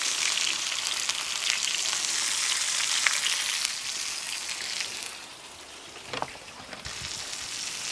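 A pork chop fries on a coal shovel with a steady, close crackling sizzle of rendering fat, which eases slightly around the midpoint before a few sharper pops.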